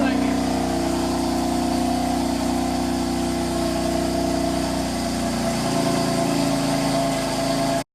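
BMW F8X M3/M4 with RK Tunes catless downpipes idling, a steady deep exhaust rumble holding at a constant level for several seconds, fairly close and uniform.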